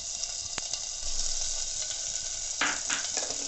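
Grated ginger crackles and sizzles in hot oil in a pan for a Sindhi-style turnip dish. The hiss is steady and close, with a few sharper pops and a brief surge of frying partway through.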